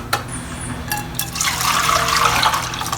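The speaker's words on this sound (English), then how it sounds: "I'm going to rinse the pot, put it back in the pot" Water from a tap splashes and trickles into a pot as it is rinsed, a close, steady running flow that swells after a brief start, with no talk.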